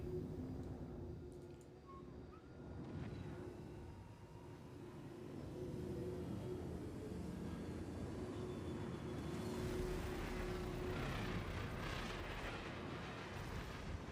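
A fighter jet roars on full afterburner in a flight combat video game, a sustained loud engine rumble that swells and intensifies toward the end, with no talking over it.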